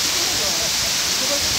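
The Cachoeira do Anhangabaú waterfall near Paranapiacaba roars as a steady, dense hiss of falling water. The sound is continuous and unbroken, heard close by.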